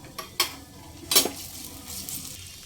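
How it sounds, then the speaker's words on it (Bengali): Golden onions frying with ginger garlic paste over medium flame for mutton kasha, a soft low sizzle punctuated by a few sharp clinks and scrapes of a spatula against the pan. "আদা রসুন পেঁয়াজের সঙ্গে একটু ভাজা করে নিয়েছি"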